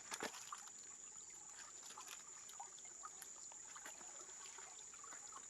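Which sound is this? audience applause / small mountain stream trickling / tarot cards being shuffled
small mountain stream trickling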